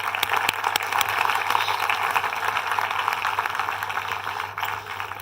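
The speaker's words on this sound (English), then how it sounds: "a big round of applause for everyone" A conference audience at a technical roundtable applauds, a sustained wash of many hands clapping at moderate distance, steady throughout with a slight dip near the end.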